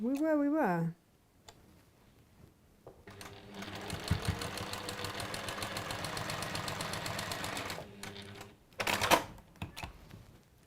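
A domestic sewing machine stitching a side seam runs in a steady, fast mechanical whirr for several seconds, then stops and starts again briefly. Someone talks just before it begins.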